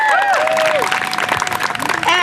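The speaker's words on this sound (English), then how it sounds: "you should all give yourself a round of applause" An outdoor crowd at a small-town pride walk claps and cheers, the applause mixed with whistles and overlapping voices, steady and moderately close for a couple of seconds.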